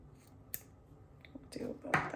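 Ribbon scissors snip through designer series paper at close range, a few quiet crisp cuts with a louder slicing snip near the end, faint and soft overall.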